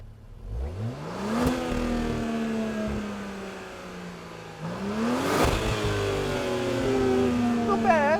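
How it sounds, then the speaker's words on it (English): An Audi SQ5 diesel engine revs up twice, the pitch climbing sharply and then sinking slowly back down, loud and close with a rumbling drone. "The rev takes so long to go down."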